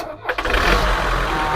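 The engine of a TT vehicle fires up after a repair of cut sensor wires. A short crank catches and settles into a loud, steady running rumble close by.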